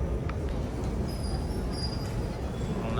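A Singapore MRT train pulls into a station with a steady low rumble. Faint, thin high squeals of wheels or brakes come and go above it, and no one speaks.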